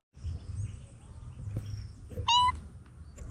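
A stray cat in Ecuador gives one short, clear meow that rises above low background rumble and shuffling, heard close and alone without voices.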